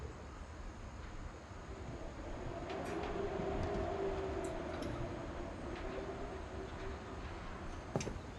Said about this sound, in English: Or why do I hear train tracks?